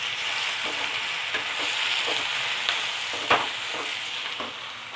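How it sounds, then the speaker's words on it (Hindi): Chopped garlic sizzles in hot oil in a pan with a steady hiss, while a spoon scrapes and stirs it in a few soft, intermittent strokes, close up with no talking. "अब हम इसमें चॉप किया हुआ लहसुन डालेंगे।"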